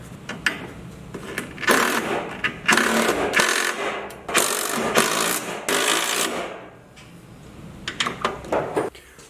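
A ratchet tightens bolts on Motobilt armor and rockers on a Jeep TJ, giving several one-to-two-second bursts of rapid clicking close by, separated by brief pauses, with a few shorter clicks near the end.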